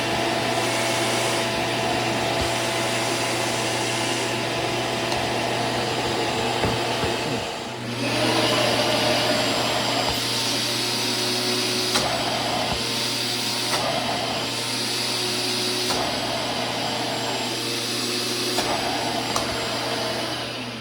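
A shop vac fitted with a cyclone dust separator on a bucket runs with a loud, steady whine and roar, the suction note shifting briefly partway through as airflow changes, with no voices.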